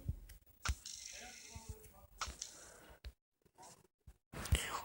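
Several short sheep bleats in Minecraft Pocket Edition, with a few clicks and a faint voice around them, separated by brief silent gaps.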